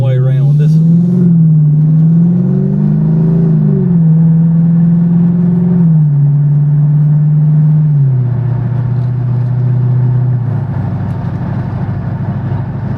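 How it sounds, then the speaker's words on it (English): A new muscle car is driven, its engine note droning steadily close by and rising and falling in pitch as gears shift through the run, with no talk over it. "This is a fun car to drive. It is a new muscle car."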